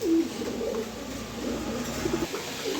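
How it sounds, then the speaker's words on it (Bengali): Pigeons kept for sale coo softly in a few low, repeated calls over a faint, steady background hum. "দেখার মতো কিছু কবুতর আছে"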